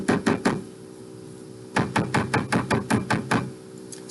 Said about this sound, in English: I'm gonna take a mallet and I'm just gonna flatten that out